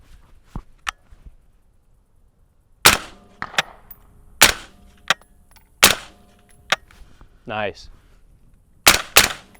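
Suppressed gunshots from a SilencerCo Hybrid 46M at an outdoor range crack out as sharp, separate reports, about seven in irregular succession, with action clatter between them and a brief spoken word.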